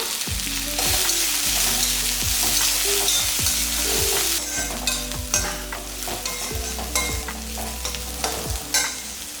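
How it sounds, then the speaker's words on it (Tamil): Shallots and coriander leaves sautéing in a pan for a mutton curry, a steady sizzle with repeated stirring knocks and scrapes of a spoon, close and loud throughout with no talking. "இப்போ எல்லாமே நல்லா வதக்கியாச்சு இல்லைங்களா"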